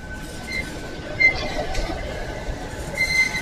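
Freight train wagons roll past on a broad-gauge railway, a steady rumbling wash of wheels on track with faint metallic squeals, close and continuous throughout.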